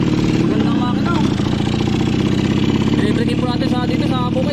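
Old motorcycle engine, once broken and since repaired, running at a farm: a loud, steady mechanical chug with clattering texture throughout, with someone talking over it.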